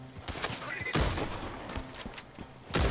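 Gunfire in Red Dead Redemption 2 Online, several sharp nearby shots at irregular intervals, a loud crack at the start of the second second and another at the very end, over quieter game background.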